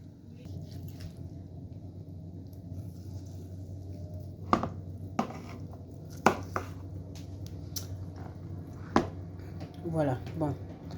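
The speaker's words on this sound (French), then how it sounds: "Donc à présent je vais couper ma viande." A knife cuts braised Chinese red-cooked pork into cubes on a board, making several sharp, separate chopping knocks over a low background, with a voice speaking throughout.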